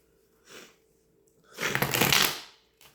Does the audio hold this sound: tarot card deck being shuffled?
yes